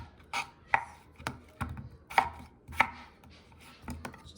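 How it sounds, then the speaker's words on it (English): A knife chops through very large potatoes into big chunks on a cutting board, about ten crisp, irregular thunks heard up close with no talking. "now my potatoes, I'm gonna cut them like this"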